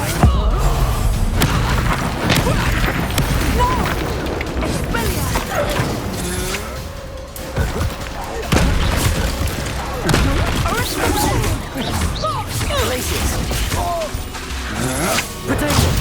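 Spell combat in Hogwarts Legacy, with repeated booming blasts and crashing impacts rolling through a continuous loud battle, while voices shout over the noise.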